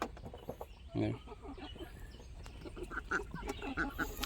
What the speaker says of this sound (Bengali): এই যে হাঁসগুলি দেখেছো